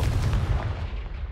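Confringo fire spell cast in Hogwarts Legacy on PS5, a deep booming blast with heavy low rumble that fades over about a second, without any talk.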